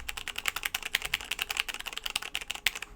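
Rapid typing on a keyboard with Romer G tactile switches: a quick, uneven run of crisp clacky keystrokes, close and fairly loud, with no voices.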